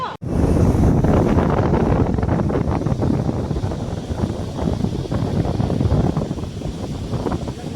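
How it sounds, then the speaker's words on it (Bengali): Monsoon sea waves and strong wind at Marine Drive, Mumbai, make a loud, continuous roar with heavy wind buffeting on the microphone and surf rumbling underneath. "এই সমুদ্রের ঢেউ এখনও বেশ কম কিছু নয়, বাতাস ওই একই রকম বইছে"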